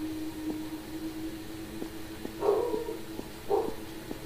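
A few short dog barks in quick succession in a horror video game, slightly electronic-sounding, over a faint steady hum with occasional ticks.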